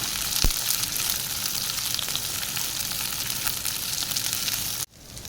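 Onion frying in a pan for chicken chilli, a loud, steady close sizzle throughout with a brief sharp knock near the start and a sudden drop in intensity just before the end.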